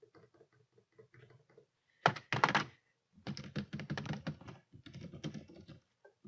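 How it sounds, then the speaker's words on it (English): Fingers tapping on a computer keyboard during an online typing test, with quiet scattered keystrokes at first, then rapid close-up bursts of clicking broken by brief pauses. "Typing."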